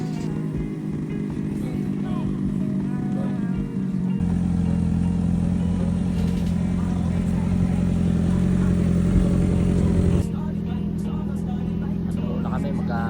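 Honda CBR650R motorcycle engine idling and revving steadily while warming up before a breakfast ride, a loud continuous low drone that swells in pitch around the middle and settles back, with no speech.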